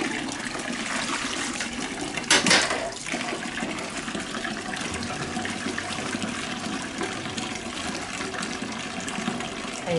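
Cabbage washed by hand in a basin of water, continuous close splashing and swishing with a brief louder gush near the start, with no voices.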